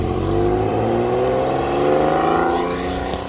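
A brand new Mercedes G550 G-Wagon idles steadily nearby on a downtown Naperville street, a continuous low engine hum with faint rising whine, loud and unbroken throughout.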